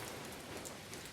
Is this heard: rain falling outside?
yes